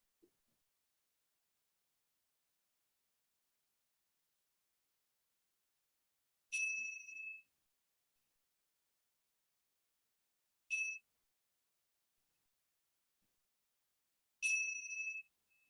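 Three small bells sound faintly and far off outdoors during a quiet yoga session, each a brief bright ding with a short ring-out, spaced several seconds apart amid near silence.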